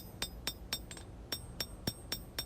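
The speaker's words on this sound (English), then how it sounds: "as I hammer in the bevels, that really puts a curve upward in that blade" Hand hammer striking hot steel on an anvil while forging bevels into a small skinner knife blade, with nine sharp ringing blows at a steady, slightly uneven rhythm, close and clear.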